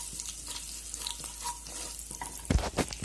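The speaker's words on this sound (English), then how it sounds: "Let's quickly give it a stir so that they don't get charred." Spice powders stirred in a hot pan, a low steady sizzle under scattered spoon scrapes, ending in a burst of louder stirring clatter near the end.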